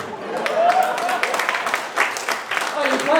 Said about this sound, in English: Oh, you're clapping.